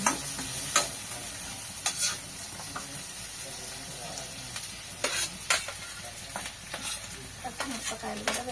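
Onion pieces frying in a pan with oil, a steady low sizzle broken by scattered sharp stirring clacks and scrapes throughout, close and moderate in level, with no talking.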